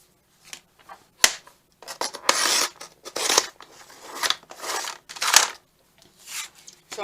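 Paper being cut with a cutter while making a file folder with pockets and a small journal, heard as a run of rasping, swishing strokes of varying length with short gaps between them, close by and fairly loud.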